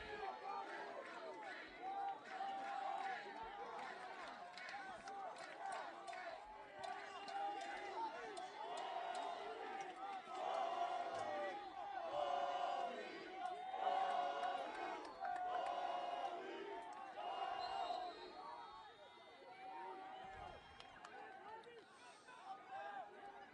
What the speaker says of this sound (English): the Spartans faithful on the far sideline cheer on their lacrosse team